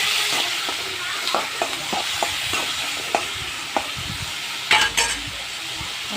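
Tomatoes sautéing in a pan with salt and turmeric give a steady close sizzle, broken by a run of rhythmic spoon stirs and scrapes and a louder clatter near the end, no talking.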